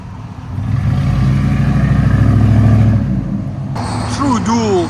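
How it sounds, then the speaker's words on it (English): A 4.6L V8 Ford F-150 from the 1999–2004 years, running true dual exhaust with NTR race mufflers and wide wheels, gives a deep, loud, steady rumble up close that swells and fades, with someone talking over the end. "True duels on a Ford F-150 with NTR race mufflers."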